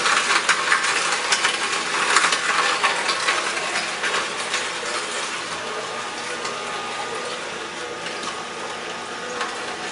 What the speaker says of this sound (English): More carrots, juice them,